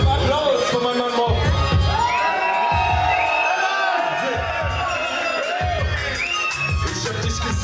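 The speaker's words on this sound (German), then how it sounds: "Ein Applaus für meinen Mann Bob." Crowd cheering and whooping at a rap show at Rapcity Dresden, loud and continuous over thumping music, with shouted voices rising and falling throughout.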